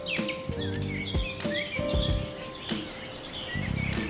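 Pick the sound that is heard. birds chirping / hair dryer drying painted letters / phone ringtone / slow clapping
birds chirping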